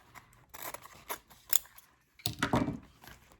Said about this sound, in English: Now, take these, cut them up at an angle,